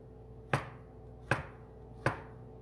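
Knife slicing through a kiwi on a cutting board: three crisp, evenly spaced chops close by, each a sharp knock into the board with brief decay, and no talking.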